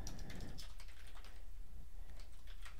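Soft, steady clicking of keys on a computer keyboard, quiet and close, a continuous run of rapid keystrokes with no voices.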